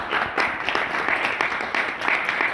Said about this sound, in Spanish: a quien habría que darle un merecido aplauso